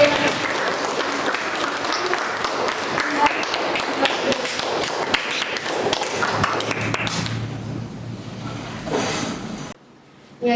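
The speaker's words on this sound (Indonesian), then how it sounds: "Kita berikan aplaus lagi." An audience applauding in a teaching or counselling session room, dense sustained clapping from many hands that fades out near the end.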